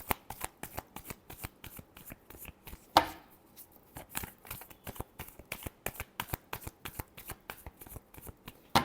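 Tarot cards being shuffled by hand, a quick run of crisp riffling flutters and soft slaps repeating steadily at close range, with no talk over them.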